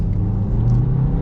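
A 2023 Kia Niro plug-in hybrid's petrol engine running under acceleration in sport mode, a steady, loud low rumble with a slight rising drone and no voices.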